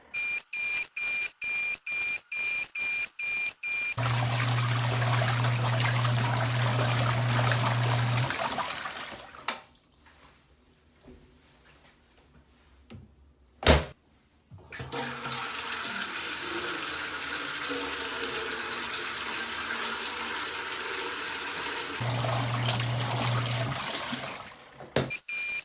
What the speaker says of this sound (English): this is just agitating your clothing in water with some soap.